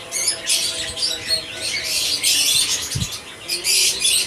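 A breeding pair of Hagoromo canaries chirps and squawks in a cage, giving short, bright calls in quick bursts with light wing flutters and a dull thump near the end.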